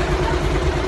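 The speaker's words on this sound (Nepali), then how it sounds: "बाइकहरू स्टार्ट हुँदैछ" Several motorbike engines running at once, a loud, steady low rumble that drones on without a break through the short moment.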